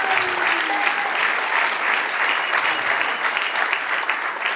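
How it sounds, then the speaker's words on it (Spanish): Church congregation applauds in a sustained, even burst of many hands clapping, loud and continuous throughout. "Dale un aplauso al Señor."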